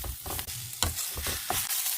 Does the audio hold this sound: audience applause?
no